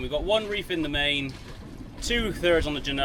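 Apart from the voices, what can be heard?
None of the usual background noises is heard.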